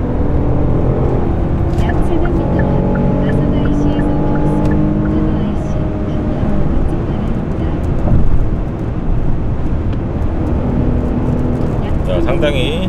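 A Kia K8 accelerates hard in Comfort mode, its newly tuned engine rising in steady harmonic tones heard from inside the cabin, with someone talking over it.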